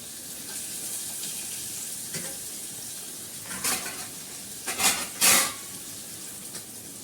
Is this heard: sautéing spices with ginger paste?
yes